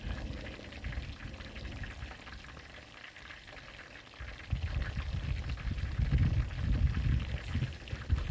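Fish frying hard in a very hot cast iron skillet outdoors in the cold, giving a dense crackling sizzle like rain that swells louder partway through.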